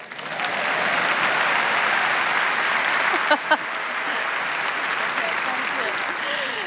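A festival audience at a panel discussion on ideas breaks into long, steady applause, a dense continuous roar of many hands, with a couple of brief louder claps and a voice partway through.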